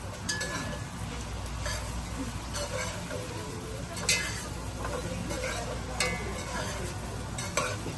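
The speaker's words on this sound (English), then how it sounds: "And you're simply stir frying everything." Steady sizzling of peppers stir frying in a hot pan for fried rice, with occasional sharp clinks and scrapes of a utensil, continuous and close.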